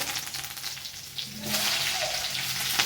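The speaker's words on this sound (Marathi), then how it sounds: "सगळ्यात अगोदर कढीपत्ता टाकून घेते" Curry leaves dropped into hot oil for poha sizzle and crackle in a pan, a soft hiss that swells sharply about halfway through and holds steady and fairly loud to the end, with no talking.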